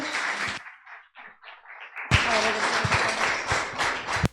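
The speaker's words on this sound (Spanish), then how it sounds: "bríndele fuerte aplauso al Señor por nuestro pastor" A church congregation at a pioneers' day celebration claps for their pastor: a short burst of applause, a brief quieter gap with faint voices, then dense, loud clapping that swells and carries on to the end.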